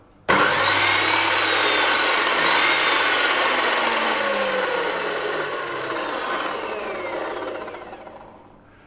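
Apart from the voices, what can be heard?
metal chop saw running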